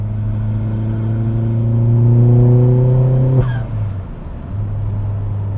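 A Vauxhall Astra VXR with an M32 gearbox cruises at about 70 mph in fifth gear near 3,000 rpm, its steady engine drone slowly swelling, then a gear change drops the revs sharply and the lower hum settles again.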